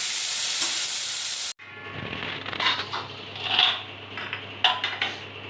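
Oil frying while masoor dal muri ghonto is cooked with chopped ginger, a steady close sizzle that cuts off sharply, then resumes lower with clinks and stirring bursts of a utensil against the pan.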